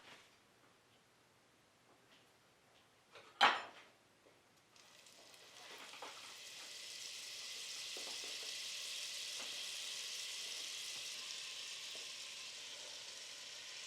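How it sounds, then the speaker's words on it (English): Turkey meat browns in olive oil and butter in a pan over medium-high heat. After a quiet start and one sharp clatter, a steady sizzle swells up and keeps going, loud and close. "Brown the meat and remove it."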